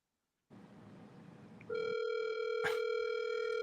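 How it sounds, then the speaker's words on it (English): A telephone call rings through a handset: after a brief stretch of line noise, a steady, loud electronic ringing tone sounds continuously while waiting for the other person to answer, with a short click partway through. "Let's see if he's going to answer the phone."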